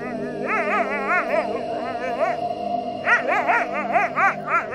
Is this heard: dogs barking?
yes